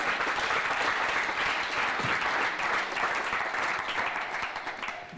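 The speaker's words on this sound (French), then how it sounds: "Acclamons pour la parole du Seigneur." A church congregation breaks into sustained applause, a dense, even wash of many hands clapping together that holds steady at full level for the whole stretch and fades only slightly at the very end.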